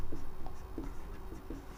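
Marker or chalk writing strokes on a board during a Class 10 maths lesson, a few short scratchy strokes at a steady rhythm, close and fairly quiet, with no talk.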